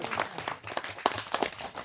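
Audience at a church gathering in Miglung claps in a quick, uneven patter of hand slaps, moderately near and fairly loud, carrying on steadily for a couple of seconds.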